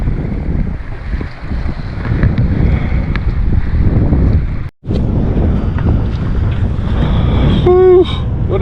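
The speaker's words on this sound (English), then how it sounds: "anchoring in a bit more wind and a bit more wave than I expected, out in the middle of nowhere" Steady wind noise and sloshing waves surround a sailboat anchoring on the North Bahama Bank, broadband and continuous with a brief dropout midway and a short electronic beep near the end.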